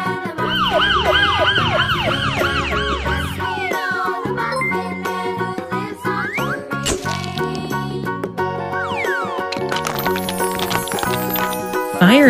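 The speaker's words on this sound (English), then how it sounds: "Police car." A cartoon police car siren wails, sweeping up and down amid a busy mix of jingly electronic tones, loud and continuous throughout.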